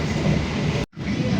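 Train rumbling steadily as it nears Jombang station, heard from inside the dining car, a dense close roar broken by a sudden brief dropout near the end before the rumble resumes.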